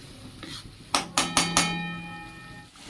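Taro coated in turmeric, cumin and coriander powder is stirred in a pan, with four quick, sharp metallic clanks of a utensil against the pan that ring out briefly over a quiet cooking background.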